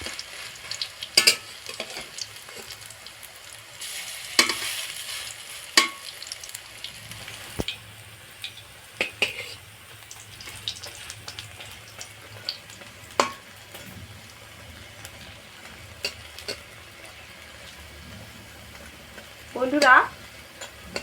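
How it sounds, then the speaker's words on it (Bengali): Bitter gourd and red lentil fritters frying in oil over a low to medium flame, a faint continuous sizzle broken by occasional clicks and scrapes as they are turned, with a brief louder clatter near the end. "বড়াগুলো এইভাবে উল্টে উল্টে ভাজা হয়ে গেছে"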